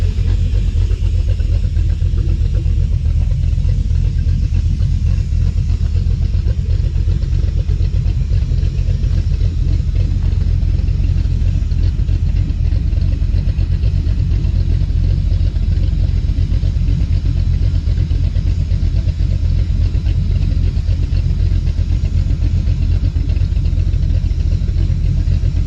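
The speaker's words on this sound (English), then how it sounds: "valve is hissing like crazy, so it's on the sharp edge right here" A 5.9L Magnum V8 in a Dodge Dakota R/T idles with a loud, steady low rumble and a faint continuous hiss from a valve above it, unchanging throughout.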